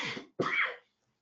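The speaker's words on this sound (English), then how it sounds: "I'm sorry about that cough" A man's cough in two quick, close, harsh bursts separated by a short gap, followed by silence.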